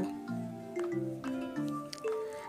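Marinated mutton goes into a pan of onions frying for an aloo gosht curry, with a soft wet squish and hiss under a faint murmur of sounds nearby.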